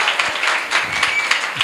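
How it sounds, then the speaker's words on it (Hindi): Applause from a church congregation during a Hindi-language sermon, a dense steady wash of many hands clapping for about a second and a half with no talk over it. "जोरदार तालियां हमारे दादा के।"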